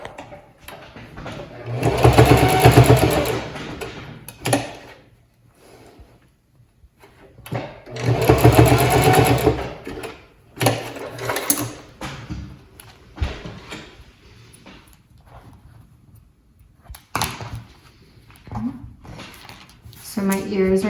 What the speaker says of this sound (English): I'm going to stitch a little shy of a 1/2 inch seam allowance right across.